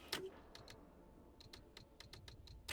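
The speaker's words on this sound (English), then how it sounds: "if you open the pause menu while the click sound is playing for the days remaining, it just keeps clicking" A repeating click from the Luna Abyss pause menu ticks over and over at an uneven pace, a string of faint sharp clicks over a quiet background hum.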